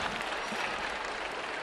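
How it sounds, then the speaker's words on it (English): A Chinese crowd at the 2014 World Men's Curling Championship applauds its team, giving a steady, dense wash of clapping throughout with no break. "the Chinese crowd giving their team a big round of applause"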